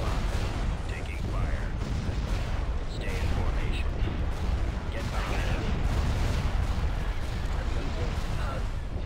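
Continuous heavy weapons fire and explosions in a Star Wars Empire at War space battle, loud and dense throughout, with a voice talking over it.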